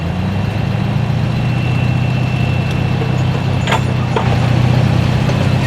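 A hot farm tractor at a tractor pull gives a loud, steady engine drone with a deep rumbling undertone, holding constant and swelling slightly near the end. Faint crowd or event noise sits beneath it.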